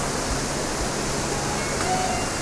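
Steady broadband rush of a waterfall, water falling continuously with no break, fairly close and even in level, heard alone without voices.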